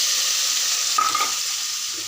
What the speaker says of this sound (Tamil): சின்ன உள்ளி கழுவி வச்சு இதை போடணும்